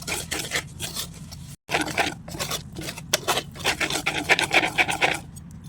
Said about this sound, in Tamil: இதில் கொஞ்சம் கொஞ்சமாக போட்டு நான் மிக்ஸ் பண்ணிடுறேன்.